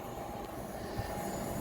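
A train on the Edinburgh to London King's Cross line crawls slowly through Grantham station, a faint, steady low rumble of wheels and engine without any distinct passing surge.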